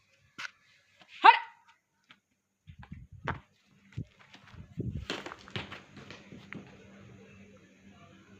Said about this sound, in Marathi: तर मित्रांनो ही बघा कुत्री